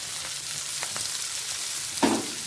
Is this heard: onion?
yes